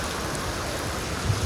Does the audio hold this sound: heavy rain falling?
yes